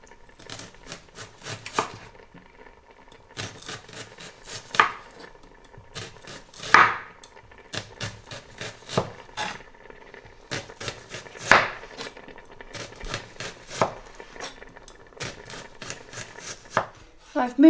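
A kitchen knife chops onion, garlic and coriander on a board in quick bursts of crisp, close taps with short pauses between runs, plus a few louder knocks.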